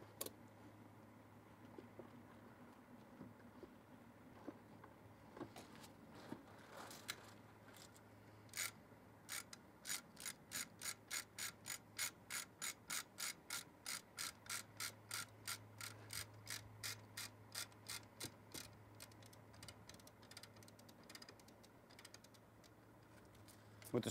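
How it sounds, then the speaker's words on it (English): A chain come-along ratchets steadily during a garbage truck rollover extrication, delivering a long run of evenly spaced metallic clicks over a low steady hum, starting with scattered clanks before settling into a regular rhythm. "We're also using a chain come-along to show you that you can use heavier equipment inside this scenario."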